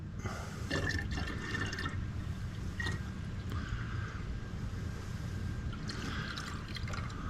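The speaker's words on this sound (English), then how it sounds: "There she's burbling." Liquid burbles and trickles as it circulates through a system, with a steady gurgling flow and scattered drips close by.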